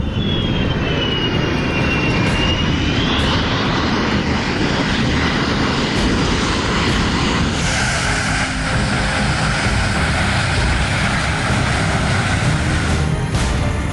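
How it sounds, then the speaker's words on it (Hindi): Large Indian Air Force Globemaster cargo aircraft, its engines roaring loud and steady throughout, with a rising whine early on and a broad rushing engine noise near by, no voices. "इंडियन एयरफोर्स का संकट मोचक माने जाने वाला सबसे बड़ा मालवाहक हवाई जहाज ग्लोब मास्टर MI-17 भी इस्तेमाल हुआ।"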